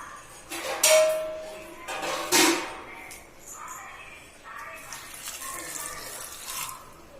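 Water poured over vegetables in a pressure cooker, a few bursts of splashing and trickling with faint clinks of the pot, quiet in between.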